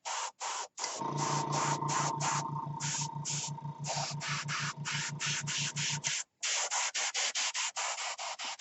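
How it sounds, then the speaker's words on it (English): Compressed air blows across alcohol ink in short hissing bursts. A continuous hiss with a low hum sounds in the middle, then gives way to a rapid series of brief, close puffs. "I can just, you know, blow using my compressed air"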